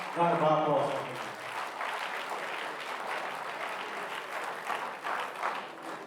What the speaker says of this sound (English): Please, a warm round of applause for him.